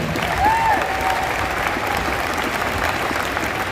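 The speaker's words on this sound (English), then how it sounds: "Round of applause if you were at our benefit dinner this year" Steady applause fills a benefit-dinner celebration at a school district band festival, a dense wash of clapping from an audience that holds at an even level throughout, with a faint whistle near the start.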